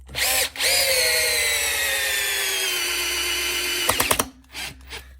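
A Bosch Flexiclick 12V cordless drill whirs steadily for several seconds, its pitch dropping slightly under load as it drives a screw into softwood, then stops with a few clunks.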